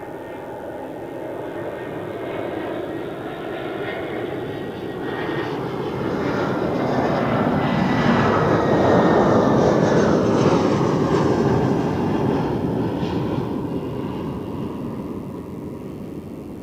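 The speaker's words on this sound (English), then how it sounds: "First we have the Edelweiss from Fuerteventura." Edelweiss airliner arriving from Fuerteventura and landing at Zurich Airport, its jet roar building to a loud, broad peak midway and then easing off, heard alone without speech.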